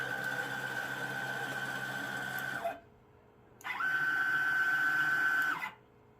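A homemade stepper-motor machine whines with a steady high-pitched electrical tone, running for about three seconds, pausing briefly, then humming again more loudly as the motor is pressed against a desk.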